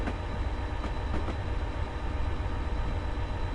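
A train in the Train Simulator game, running the Settle to Carlisle line, passes a goods train in a dense, steady rumble of rail noise with faint clattering wheel beats and no voices.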